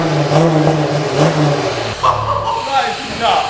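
An Audi A5 diesel fitted with a GTR-style exhaust revs in bursts close by, its engine note rising and falling, with people talking over it throughout.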